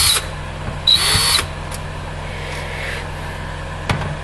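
A power drill driving screws into an Xbox 360 casing, two short high whirring bursts near the start, then a low steady hum and a brief click near the end.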